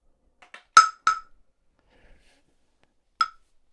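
A Nintendo Switch 2 fitted with a clear tempered glass screen protector is dropped from 2 feet, giving two sharp glassy clinks close together, then a single lighter tap a couple of seconds later, with quiet in between.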